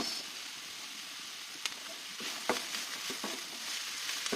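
Food sizzling and being stirred in a frying pan while cooking Maranao piyaparan, before chicken is added; steady close hiss of frying with scattered scraping stir clicks, no talking.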